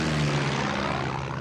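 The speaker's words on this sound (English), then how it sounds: "is that one of the military planes I need to grab a hold of?" A military propeller plane in Far Cry 6 drones steadily overhead, a loud, continuous engine hum with a strong low tone and no talking.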